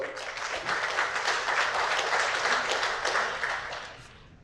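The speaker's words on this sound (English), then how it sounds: "Big round of applause." Audience at a Women's Day celebration event breaks into a big round of applause, dense clapping that swells and then fades away over a few seconds.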